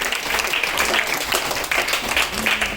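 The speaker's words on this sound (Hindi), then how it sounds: "एक बार जोरदार ताली मार के स्वागत करेंगे।" Steady applause from an audience at a gathering, a dense sustained patter of clapping hands, loud and close, with a faint voice underneath.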